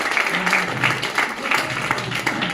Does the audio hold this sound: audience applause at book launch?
yes